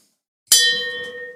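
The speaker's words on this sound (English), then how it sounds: "Ring the fucking bell." A single bright metallic bell strike rings out after a brief silence, close and loud, then decays slowly with a sustained ringing tone.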